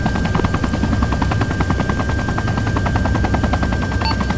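A hostile UH-1 helicopter in the Arma 3 video game, its rotor thumping in a fast, steady, loud beat close by, with no talk over it.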